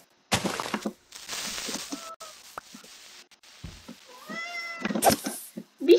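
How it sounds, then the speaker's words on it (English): Meows of a cat in the video game Minecraft, several short separate cries with pitch glides spread across a few seconds, close and fairly clear, with clicks and thuds of game activity between them. "Be quiet, cat."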